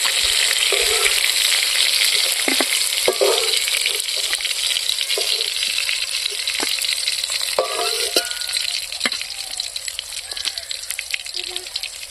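Rohu fish fry in oil with a continuous crackling sizzle, broken by scattered pops and small clicks.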